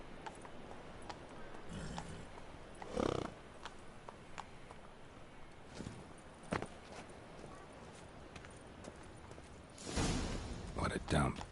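Geralt's horse Roach runs in The Witcher 3 with a steady patter of hooves, joined by louder bursts of gallop and movement, while people talk over it at intervals.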